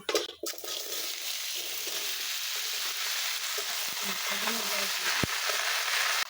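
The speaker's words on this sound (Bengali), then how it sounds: "আমার ফোড়নটা ভাজা হয়ে গেছে, এখন আমি কুমড়োগুলো দিয়ে দেবো" Pumpkin pieces frying in hot oil seasoned with panch phoron and hing, a steady close sizzle with a clatter at the start and faint stirring scrapes later on.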